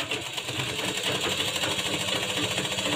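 A sewing machine runs continuously, its rapid needle chatter steady and fairly faint as it stitches a single seam on a blouse.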